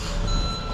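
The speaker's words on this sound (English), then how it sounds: "Concrete truck's backing up." A concrete truck reverses on a residential construction site during a sonotube pour, its backup alarm sounding a steady high tone over a loud diesel engine rumble, close by.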